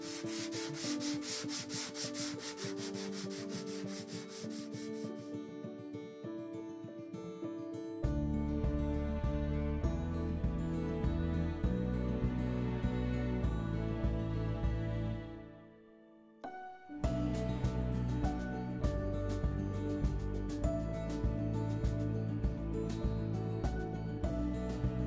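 A desk surface is roughed up with 120 grit sandpaper, giving a steady, close sanding drone with a humming, tonal quality. The tone shifts in pitch partway through and pauses briefly before continuing, with no talking.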